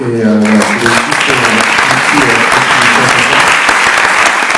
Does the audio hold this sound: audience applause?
yes